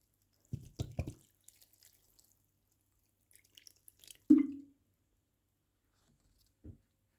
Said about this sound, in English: Just gonna water some of the plants